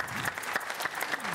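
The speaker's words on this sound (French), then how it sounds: "On peut les applaudir encore." Steady applause from a crowd, dense clapping filling the whole moment without a break.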